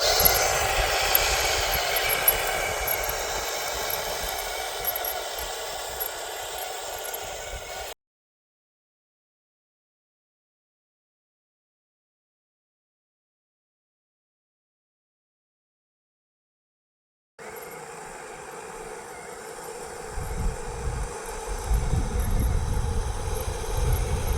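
A small RC Hetzer tank model drives in a drag race, giving a steady whining motor drone with ground rumble. The sound cuts out for a long silent gap, then resumes with a heavier low rumble.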